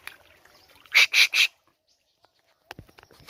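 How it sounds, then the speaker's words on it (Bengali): A parrot calls in the Sundarbans forest, giving three sharp, loud, closely spaced squawks, followed by near silence and a few faint, scattered sounds. "সুন্দরবনের জঙ্গলে দেখুন কি সুন্দর টিয়া পাখি"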